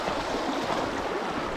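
Swift water rushes over rocks in a stream, a steady broadband wash of flowing water with no voices, close and continuous throughout.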